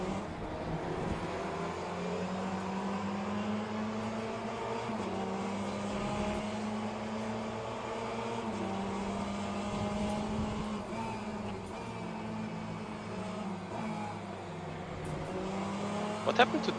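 A Ferrari race car runs steadily over the kerbs at Imola, its engine droning with a continuous harmonic tone that rises and falls slightly. A voice talks intermittently over the engine throughout.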